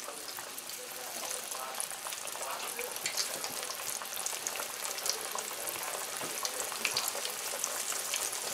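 Hot oil sizzles and crackles steadily as flour-coated butter fish fries close by, a continuous bubbling hiss with no talking.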